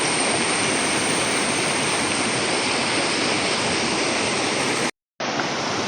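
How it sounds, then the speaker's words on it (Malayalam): A stream flowing beside a Kerala temple, a loud constant rush of water without pause except for a brief dropout near the end. "ഇവിടെ ഇങ്ങനെ ഈ അരുവി ഒഴുകി വരുന്നത് ആ അമ്പലത്തിൻ്റെ ഭാഗത്താണ്"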